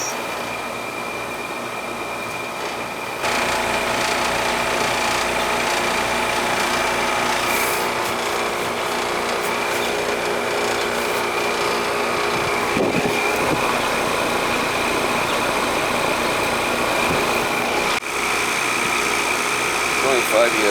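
Five-year-old heat pump outdoor unit running in defrost mode in summer, giving a steady loud mechanical drone with a hum and rattle throughout, with brief talk in the background.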